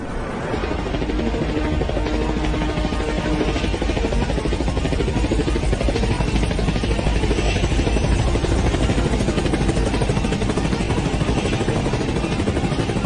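An aircraft taking off, its engine roar loud, steady and broadband throughout, close and continuous with no voices over it.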